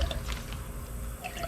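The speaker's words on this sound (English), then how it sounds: "Just gonna pour a little bit of gasoline down each cylinder." Gasoline poured down the cylinders of a swamped Sea-Doo jet-ski engine, a short liquid trickle with light drips and splashes, close and fairly quiet, no speech.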